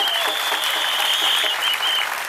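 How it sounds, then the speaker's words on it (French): A crowd at a political gathering applauds for Tunisia, loud and dense continuous clapping, with a high whistle-like tone running through most of it. "Applaudissez pour la Tunisie."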